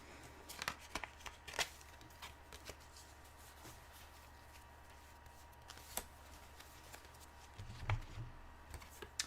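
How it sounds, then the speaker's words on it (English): Soft, quiet tarot card shuffling with scattered riffling taps and flicks close by, no talking. "Just let me shuffle the deck for you."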